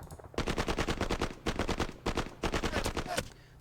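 Rapid automatic gunfire attacking tanks in the wargame Danube Front 85, dense loud bursts of repeated shots with brief pauses between volleys.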